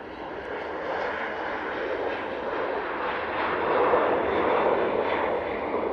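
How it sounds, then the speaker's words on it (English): A TUI airliner taking off from Manchester Airport bound for Larnaca, its jet engines a loud, steady roar that builds slightly and holds for several seconds with no voices over it. "that beautiful TUI off to Larnaca."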